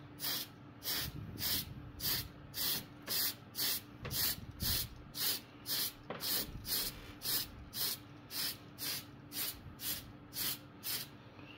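Primer sprayed from an aerosol can onto a 3D printed HO scale model substation structure in light coats, heard as a regular series of short, close hissing bursts, each about half a second, with no talking.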